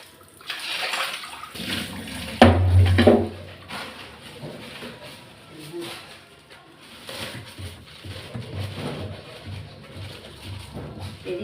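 Water splashes into a pot as large fish are rinsed before cooking, loud close sloshing early on, then softer intermittent trickling and clatter with birds cooing faintly in the background.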